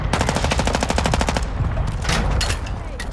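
Rapid automatic gunfire in a battle royale shooter, a fast steady burst of shots for over a second, then scattered single reports over a noisy background.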